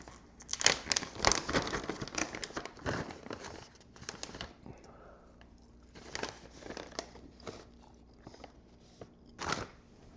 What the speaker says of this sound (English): It's as chewy as beef jerky should be.